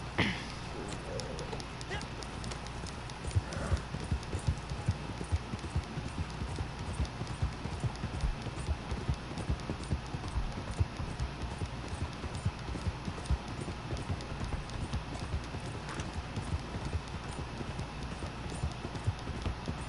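Horse hooves clip-clop steadily in Red Dead Redemption 2, a continuous rhythmic trotting that runs the whole time alongside in-game ambience, with players talking over it.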